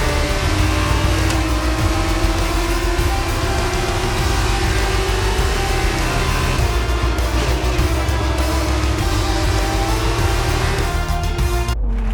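Formula 2 race car engine in the F1 22 racing game at the Azerbaijan Grand Prix circuit, a loud continuous high-pitched whine with shifting revs as the car drives in, steady throughout with no talking.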